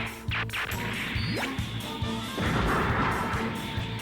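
Bazooka shots and explosions sound in the Gundam Federation vs Zeon video game, with loud repeated crashing blasts, whooshes and a rising whistle over constant game noise.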